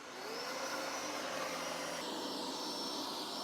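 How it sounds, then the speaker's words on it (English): A MOVA P70 Pro Ultra robotic vacuum runs at maximum power with a loud, steady, high-pitched motor whine and airy rush. Heard up close with no talking, it shifts slightly in pitch partway through. "Listen to this robotic vacuum when I set it on maximum power."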